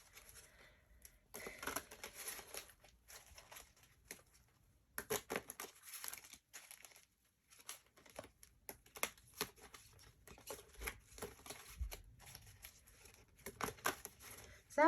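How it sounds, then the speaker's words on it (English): A deck of tarot cards is shuffled close up, with quiet, irregular bursts of riffling and soft card slaps separated by brief pauses, faint and alone. "So I'm going to shuffle them."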